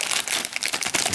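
Crinkly plastic of an MRE hot beverage bag handled up close, a dense run of sharp rustling crackles over about a second with no talk.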